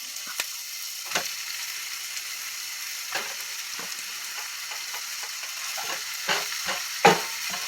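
Ground turkey sizzles steadily in a hot pan, a constant close hiss broken by soft scrapes and occasional clacks of a utensil stirring the meat.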